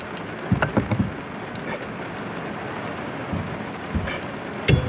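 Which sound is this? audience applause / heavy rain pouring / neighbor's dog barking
heavy rain pouring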